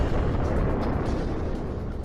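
Massive asteroid impact explosion effect, a dense, sustained low roaring rumble at steady loudness throughout, like a huge blast hurling clouds of gas and ash skyward.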